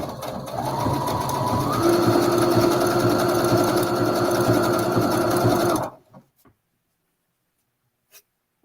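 A sewing machine runs in one steady, close stretch of about six seconds, its motor whine rising slightly in pitch early on, then stops abruptly, leaving near silence with a couple of faint clicks.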